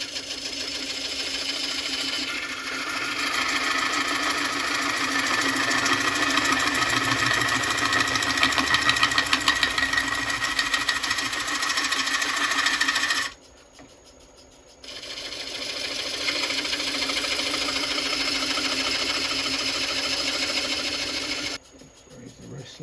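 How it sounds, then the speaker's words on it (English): Spindle gouge cutting a large live-edge ash bowl on a wood lathe, a loud, steady shearing whir that runs continuously, breaks off for about a second, then resumes and stops again near the end. "Use a spindle gouge to cut that out."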